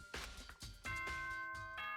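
Ding-dong chime in a video game, a quiet run of bright, sustained bell tones struck several times in succession, ringing out alone.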